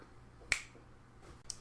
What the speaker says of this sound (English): When I snap my fingers, we'll have a slow potion on the ground.